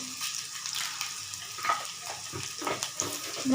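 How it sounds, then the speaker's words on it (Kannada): Garlic, chana dal and urad dal fry in hot oil with a steady, close crackling sizzle, and a few louder pops and stirring scrapes come through over about three and a half seconds. "ಇವಾಗ ಚೆನ್ನಾಗಿ ಫ್ರೈ ಮಾಡ್ಕೊತೇನೆ."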